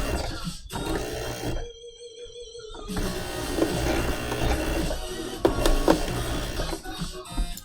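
Sewing machine stitching through thick rope, running loud and steady with mechanical rattle and a brief pause partway through.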